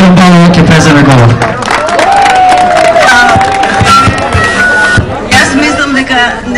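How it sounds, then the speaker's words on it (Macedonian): A rally crowd in Kočani cheers and applauds loudly after the Prime Minister is introduced, with shouts and a whistle rising over dense clapping and babble. "Сега ќе го замолам уште еден голем аплауз за премиерката"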